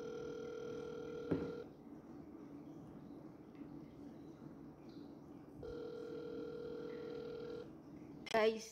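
An outgoing phone call rings back unanswered, two long electronic ringback tones separated by a quiet gap, faint and close, with a short burst of noise at the end.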